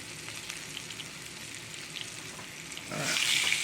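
Pork chops frying in a skillet during country cooking, a steady close sizzle that swells louder near the end as food is pressed down, with no voices over it.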